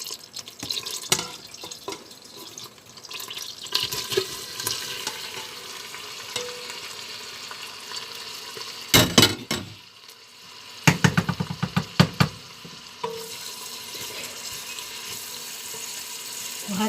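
Onion frying with stirring in a pan while cooking liver tagine with purslane and spices: steady close sizzle and scraping stirs, with a few sharper clattering bursts partway through.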